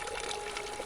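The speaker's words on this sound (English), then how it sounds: "Fountains," Water from a fountain splashes in the palace gardens of Linderhof in a brief, steady wash of noise, cut by a short low thump at the very end.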